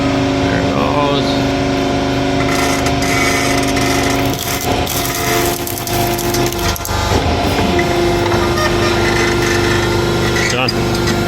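A motorised truss machine in a truss factory moves along its tracks with a steady, loud motor whine and mechanical clatter, while voices talk over it.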